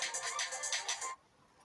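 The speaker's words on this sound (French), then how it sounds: "Voilà un appel." A telephone ringtone from an incoming call trills in quick repeated pulses for about a second and then cuts off, fairly quiet, with no voice over it.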